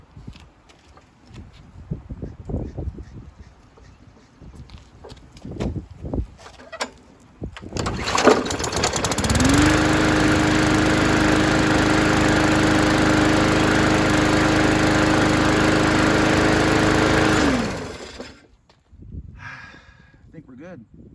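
A 2017 Yard Machines 20-inch walk-behind lawn mower engine, freshly carb-cleaned, catches after a pull and runs loud and steady at idle for about ten seconds before cutting out, with handling noises and talk before and after.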